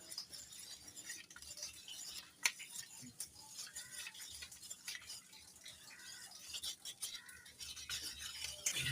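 A spoon stirs a turmeric-tinted mixture in a bowl, making a steady run of small clinks and scrapes against the sides, close and fairly quiet throughout.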